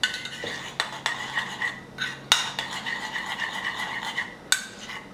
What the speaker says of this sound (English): After that, you get a spoon. You're gonna mix it up.